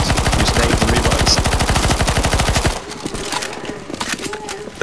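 Rapid automatic gunfire in CS:GO Zombies, a video game: a loud, evenly spaced stream of shots rattles for nearly three seconds, then stops and gives way to quieter scattered game noise.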